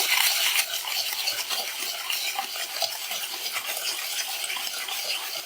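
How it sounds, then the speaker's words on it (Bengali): Sugar is stirred into oil for an eggless palm cake batter, producing a continuous close scraping and swishing with quick rhythmic strokes and a faint sizzling texture throughout. "চিনিটা তেলের সাথে এইভাবে গোলাতে একটু সময় লাগছে"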